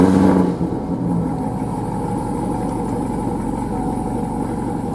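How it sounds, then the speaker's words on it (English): A 2016 Cadillac CTS-V engine fires up with a loud, brief startup roar, then drops into a steady, deep idle hum that holds evenly and close by, with no voices. "let's start the car right now"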